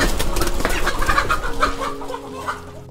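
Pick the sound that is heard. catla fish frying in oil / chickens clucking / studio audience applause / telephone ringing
chickens clucking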